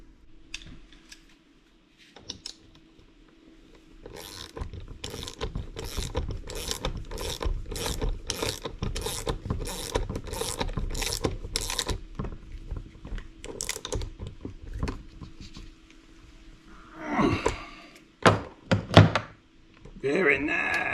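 A ratchet tightens a bolt on a 1969 Dodge Charger, a rapid run of close, crisp clicks in steady rhythm, followed by a few heavier clunks and handling noises.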